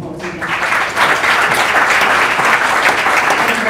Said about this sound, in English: Let's give these wonderful panelists a round of applause again.